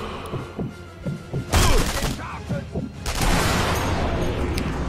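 Sniper rifle gunfire in Sniper Elite V2 on Xbox 360 during a zombie horde kill tally mode: one loud, sharp shot stands out midway, followed by a sustained rumbling wash amid softer scattered game noise.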